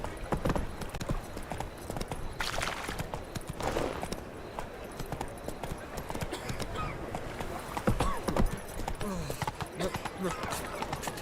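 Roach the horse galloping in The Witcher 3: rapid, rhythmic hoof clip-clops on the ground with an occasional whinny, continuing under a voice speaking.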